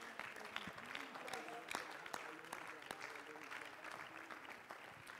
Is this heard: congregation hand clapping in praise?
yes